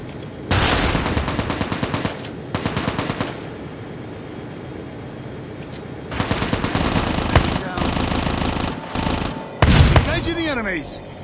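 Automatic gunfire rattles in rapid bursts during a Call of Duty Mobile battle royale match, with loud volleys separated by brief lulls and excited players talking throughout.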